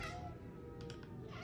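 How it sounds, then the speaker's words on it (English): A cat yowls and caterwauls in a brief indoor scuffle with a dog, a strained, wavering meow heard faintly in the background with no speech. "Excuse my cat and my dog fighting in the background"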